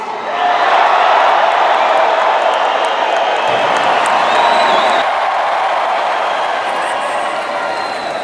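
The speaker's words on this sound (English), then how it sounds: "the crowd felt electric, cheering from everyone in the audience" A large rally crowd in Kentucky for Donald Trump cheers loudly and continuously, a dense wash of shouts, whoops and clapping that holds steady throughout.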